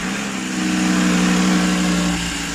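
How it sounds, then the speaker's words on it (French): An Audi RS3 engine runs steadily at idle after starting, a constant mid-pitched hum that rises slightly in the middle and then settles, close and alone with no talk. "on va démarrer le véhicule, on va le faire tourner un tout petit peu et on va faire passer les vitesses"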